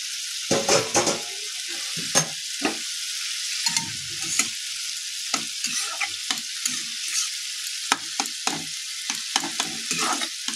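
Poppy-seed curry cooks in a pan, its steady sizzle overlaid by repeated scraping strokes of a spoon or spatula, close and fairly loud, with no talking.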